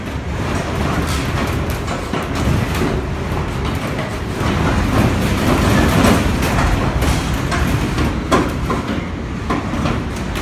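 Strong wind battering a structure, a dense, continuous roar with rattling and clattering throughout, loud and steady with no voices.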